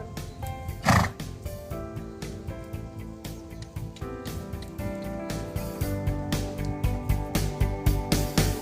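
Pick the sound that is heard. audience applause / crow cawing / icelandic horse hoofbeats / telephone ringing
icelandic horse hoofbeats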